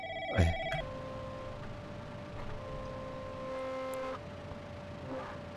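Telephone ringing in the horror video game The Lancaster Leak: Crisis at Call Center, a sustained electronic ring tone with a knock at the start, heard alone at moderate volume.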